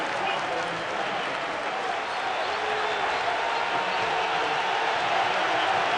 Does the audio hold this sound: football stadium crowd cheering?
yes